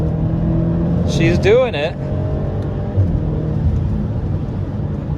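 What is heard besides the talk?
BMW X5M accelerating hard from launch in M mode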